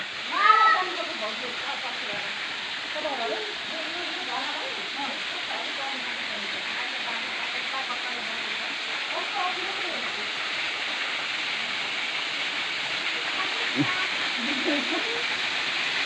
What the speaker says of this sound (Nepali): सम्भवतः झरना आइपुग्यो